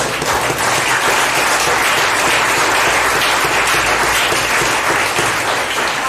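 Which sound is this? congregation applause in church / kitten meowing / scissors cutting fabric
congregation applause in church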